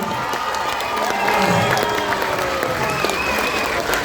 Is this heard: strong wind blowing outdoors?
no